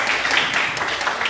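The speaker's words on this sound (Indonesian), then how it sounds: "tepuk tangan untuk saudari Arman" Audience applause at a university teacher-training session in Makassar, a steady wash of clapping from a seated group filling the short moment without any voice over it.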